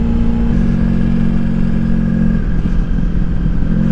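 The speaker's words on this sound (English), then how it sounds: "Man, I love just riding back country roads on the motorcycle where there's no traffic." A motorcycle cruises along a quiet back country road, its engine holding a loud, steady drone with wind rush and no noticeable shifts in pace.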